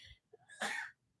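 A single sharp sneeze bursts out close and fairly loud after a brief faint intake of breath, ending abruptly in quiet.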